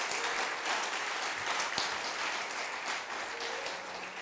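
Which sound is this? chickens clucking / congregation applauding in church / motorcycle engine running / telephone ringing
congregation applauding in church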